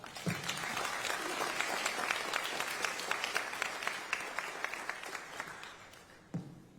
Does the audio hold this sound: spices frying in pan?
no